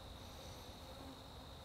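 Honey bees drone in a faint, steady buzz around a bee hunting box set out outdoors to track a wild colony. The hum is continuous and low in level, with no voices.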